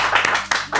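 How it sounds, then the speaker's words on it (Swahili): Several sharp, separate hand claps ring out in quick succession, close and loud, during a Swahili-language talk about Osama bin Laden's family. "tumpigieni makofi"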